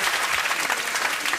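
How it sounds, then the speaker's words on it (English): Studio audience at a televised talent show results programme applauds, a brief, even wash of clapping and cheering heard alone. "Can we give a big round of applause for Austin, please?"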